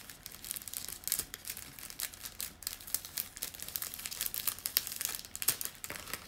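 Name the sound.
peeling off adhesive tape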